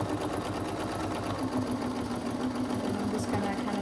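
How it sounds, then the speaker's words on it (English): A sewing machine stitches binding onto the front of a quilt, producing a steady, continuous mechanical whir that runs close and even from start to finish without pause. "I'm sewing the binding onto the front"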